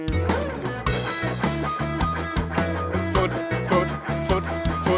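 An electric guitar plays a rapid run of strummed upstroke notes with fretted presses, steady and rhythmic, loud and close with no talking.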